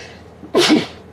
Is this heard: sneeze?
yes